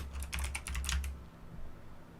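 Computer keyboard typing a folder name, a quick burst of close clicky keystrokes for about a second, then quiet room tone.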